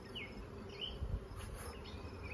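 Honey bees buzz steadily in an open hive during a swarm check, a faint continuous drone with a few bees flitting close by.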